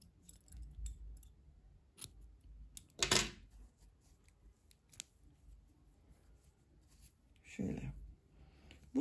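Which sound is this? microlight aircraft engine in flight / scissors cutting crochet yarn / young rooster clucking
scissors cutting crochet yarn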